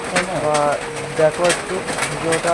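Pigeons coo repeatedly in a close, steady rhythm, while a person speaks over them and light rain may be falling nearby.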